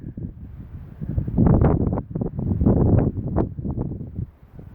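Gusty wind buffets the microphone outdoors on open ground near an old wall, producing loud, low rumbling surges that swell and fade; no voices.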